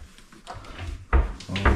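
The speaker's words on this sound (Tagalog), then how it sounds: "Tapos ito yung mga drawer natin." Kitchen cabinet drawers slide open and shut in a newly fitted, still-empty kitchen, giving a few close wooden thumps and a soft rolling slide, with one firmer knock near the end and no talk over them.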